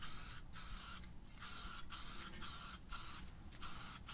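Aerosol spray paint hisses onto a foam RC airplane in repeated short bursts, about seven quick light passes with brief pauses between them, close and fairly loud with no talking.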